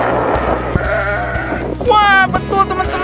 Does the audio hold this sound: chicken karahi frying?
no